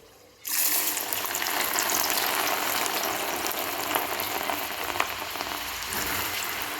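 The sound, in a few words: lentil batter vadas frying in hot oil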